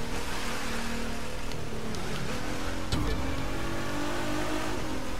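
Game car engine revving in The Crew 2 on a hilly course, a steady loud drone with a sharper rise in pitch near the middle, continuous throughout with no talk.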